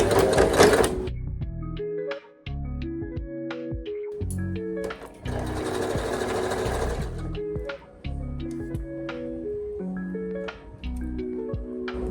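A sewing machine stitches a summer sundress with the bobbin thread running low, its whirring motor running in bursts of a few seconds separated by brief stops, close and clear.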